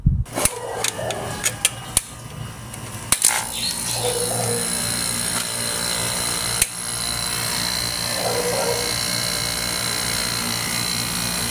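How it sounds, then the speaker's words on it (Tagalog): A steady mechanical hum of an air conditioner compressor running normally drones continuously with a few clicks and knocks near the start, running evenly at moderate volume without speech. "At ganito ang tamang tunog ng compressor."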